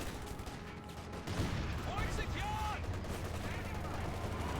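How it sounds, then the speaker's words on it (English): Grenade blasts and gunfire in the real-time strategy game Company of Heroes 2, a dense, continuous rumble of explosions and rattling shots with a commentator talking over it. "Oh, the grenade exchange, very nice."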